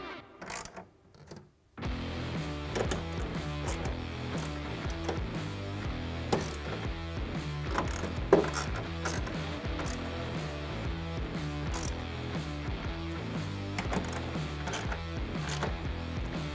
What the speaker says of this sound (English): we're going to start with a 13mm socket on an extension here to get all these bolts